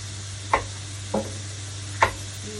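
Onions stir-frying in a pan for homemade yakisoba, with three sharp spatula knocks spaced about a second apart over a steady low hum and a faint sizzle.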